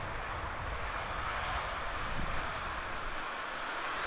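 A Ryanair airliner arriving from Alicante touches down on a wet, rain-swept runway at Manchester Airport, a steady broadband engine roar and rushing noise holding loud throughout with no voices over it.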